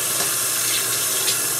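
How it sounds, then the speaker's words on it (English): Water from a kitchen tap streams into the sink while a small strainer is rinsed beneath it, a steady close hiss and splash with slight shifts as the flow hits the mesh, no talking. "I'm just going to wash my little strainer here."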